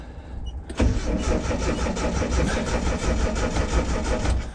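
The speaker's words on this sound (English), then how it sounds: "cold, slow crank, but cranking again, so that's a plus" A Nissan 720 truck fitted with a Weber carburetor cranks slowly on a cold morning, the starter churning in a loud, continuous rhythmic grind that begins abruptly and never catches.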